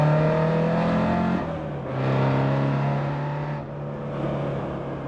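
Yellow Ford Escort Mk2 RS2000 accelerating hard in a chase, engine note climbing through several gear changes with short dips between pulls, loud and close, with no talk.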